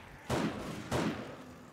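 Two loud, broadband blasts about half a second apart in the 7 Days to Die survival video game, each a sharp thud-like burst that decays over a steady background hiss, with no talk over them.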